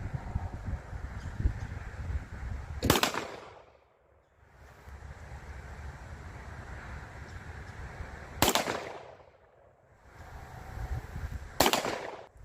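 Three sharp, loud 7.62x25 Tokarev pistol gunshots spaced several seconds apart outdoors, each followed by a rolling echo that fades before the next shot.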